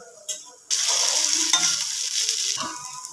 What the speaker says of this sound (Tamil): மீன் முட்டை வந்து அரை மணி நேரம் ஊறிட்டு இப்போ வறுத்து எடுத்துக்கலாம்